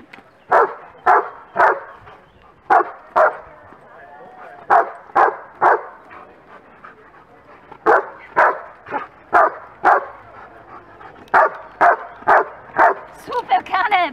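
A dog barks repeatedly in short clustered bursts of yips and bow-wows, close and loud, while people talk nearby throughout.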